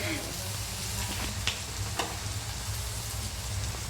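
Crushed onion frying in oil for muri ghonto with katla fish head keeps up a continuous sizzling hiss, near and steady, with a few soft clicks of stirring and no clear talk.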